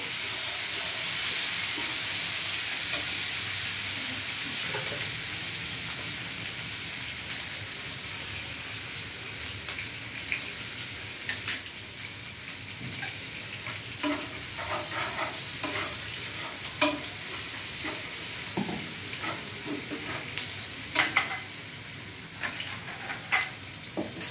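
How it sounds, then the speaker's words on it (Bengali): Onions sizzle steadily in a hot pan for shrimp paste with flat beans, with a constant frying hiss and scattered scraping clicks of stirring, close and continuous without talk. "পেঁয়াজটা খুব বেশিক্ষণ ভাজার দরকার নেই, জাস্ট 1 থেকে 2 মিনিট পেঁয়াজটা ভাজা হলেই"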